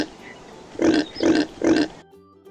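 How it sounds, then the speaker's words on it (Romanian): Three evenly spaced cartoon pig oinks from a children's farm-animal cartoon, loud and close, each a short nasal grunt, with a brief music tail afterwards. "Haideți să auzim cum va face porcul."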